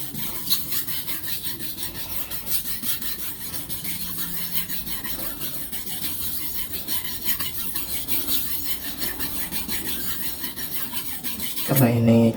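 A kitchen knife is ground on a fairly fine whetstone, giving a continuous close rasping scrape with steady back-and-forth strokes, alone and loud throughout, ending in a brief louder scrape.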